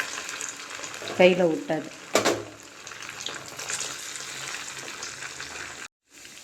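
Rice bonda balls dropped into hot oil, a steady crackling sizzle that bursts louder as the balls go in, with someone speaking briefly over it.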